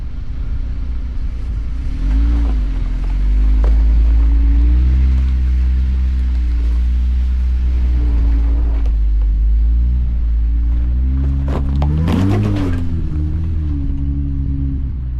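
A Jeep with its rear locker engaged crawls up a rock obstacle on Big Mesa Trail in Moab, Utah, its engine giving a loud, close low rumble that swells with revs around the middle and again near the end.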